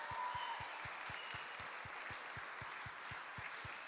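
A big round of applause for the presenters at an online horror game awards show: steady, soft, even clapping hiss, with a regular low thumping beat running underneath.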